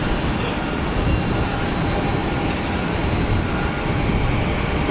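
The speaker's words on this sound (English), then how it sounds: "What better way to announce your arrival than a massive armful of throttle on the reversers?" An airliner landing at Geneva Airport with heavy reverse thrust, a loud, steady broadband roar that holds constant throughout, no voices.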